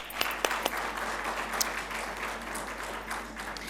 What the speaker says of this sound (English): Can we have huge round of applause for all of them?